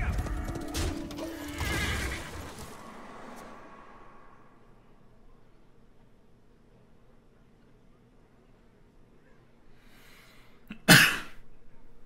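A horse whinnies and clip-clops amid busy game effects in the Hearthstone video game. The sounds fade into quiet, and then a sharp, bright chime hits near the end.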